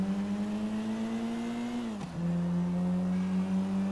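A car in the video game GTA V races along, its steady engine tone holding high, dipping briefly as it shifts or slows, then climbing and droning on loud and close, with no talking.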